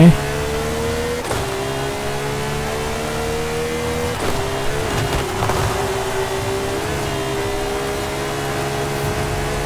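A Lamborghini Huracan STO fitted with a V12 engine accelerates in a loud, sustained run. The pitch rises steadily and drops sharply at each gear change, with a person talking over it.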